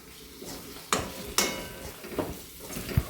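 Kashmiri chili powder frying in a pan for an egg curry masala, with a continuous soft sizzle under a few sharp spoon scrapes and knocks against the pan.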